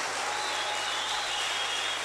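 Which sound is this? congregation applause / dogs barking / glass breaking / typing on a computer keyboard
congregation applause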